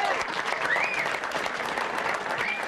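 Applause from an overflow audience at a town hall meeting on health care reform in Franklin for Congresswoman Blackburn fills the room, steady and dense for the whole stretch, with some faint cheering mixed in.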